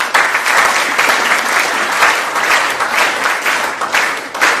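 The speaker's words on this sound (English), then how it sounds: "A huge round of applause for her." Seminar audience gives loud, sustained applause, a thick even roar of many hands clapping close by without pause.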